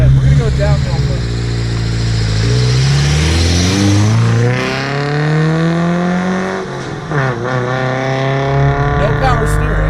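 A modified Datsun 510 wagon drives downhill, its engine loud and close, pitch rising and falling through gear changes and revs, with a voice talking over it.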